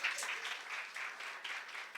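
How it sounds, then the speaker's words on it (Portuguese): A church congregation claps during a Pentecostal celebration service, soft and somewhat distant, with brief uneven bursts of clapping over two seconds. "Aplauda Jesus"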